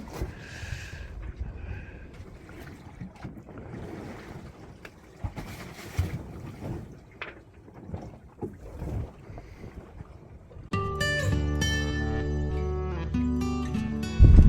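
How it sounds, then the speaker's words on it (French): A sailboat, an RM 1060, sails with its Cap Horn wind vane self-steering at work, the mainsail furled and no spinnaker set, with steady wind and water rush and creaks, then a loud tonal rumble near the end. "Et le régulateur fait son boulot."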